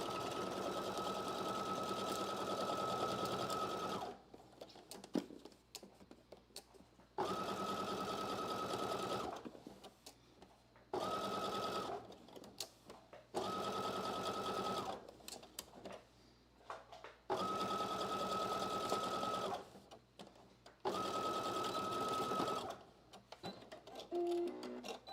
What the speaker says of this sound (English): And then I'm going to sew it using 5/8 of an inch seam allowance.